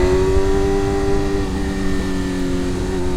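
A 2026 BMW M1000RR inline-four sportbike accelerating in second gear with a close, loud, smooth high-pitched engine scream that holds steady over a few seconds.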